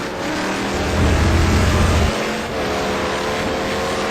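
Touring cars, including BMWs, race closely at the Algarve circuit in a Blue Cup round, loud engines roaring and droning past close by, one pitch dropping away before another car's steady drone takes over.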